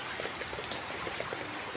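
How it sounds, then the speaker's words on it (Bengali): Light drizzling rain falls as a soft, even patter of scattered drops, close by and faint, with no talking. "এখন টিপ টিপ টিপ টিপ করে বৃষ্টি পড়তেই আছে"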